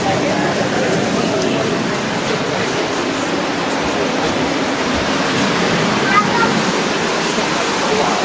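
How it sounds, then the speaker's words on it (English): Steady, dense roar of the waterfall at Pink Creek fills the whole clip, loud and close, with no clear breaks. "just remember, Pink Creek is where the waterfall is."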